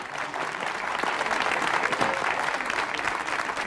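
Studio audience applauding on a Spanish television game show, a steady, moderately loud round of clapping that builds slightly and holds for several seconds.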